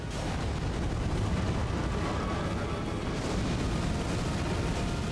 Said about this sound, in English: Nice fireworks.